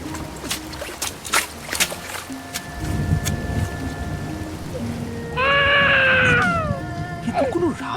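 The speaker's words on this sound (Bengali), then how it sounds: "এত রাতে এই ঘোর জঙ্গলে বাচ্চার কান্নার আওয়াজ কোথা থেকে আসছে?" In a night-time jungle scene of a cartoon, a baby lets out one loud, drawn-out wail over the sound of rain. A shorter cry follows, with scattered sharp knocks earlier on.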